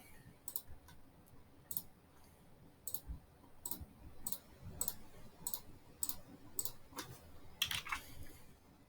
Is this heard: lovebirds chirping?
no